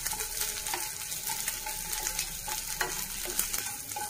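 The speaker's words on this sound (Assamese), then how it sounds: "ডাঙৰ ডাঙৰ কম জুইত 8 পৰা 10 মিনিট সময় এনেকে ভাজিব লাগিব" Large garlic cloves fry in a pan over a low flame, a steady soft sizzle with scattered stirring scrapes and clinks, close and fairly quiet without talk.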